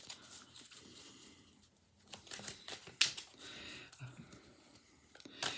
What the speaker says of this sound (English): The lovely Rachel, I'm shuffling the deck.